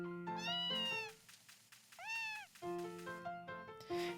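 Cats in the Harvest Moon: A Wonderful Life video game give several clear, close meows in quick succession, each a rising then falling cry, with one longer plaintive meow in the middle.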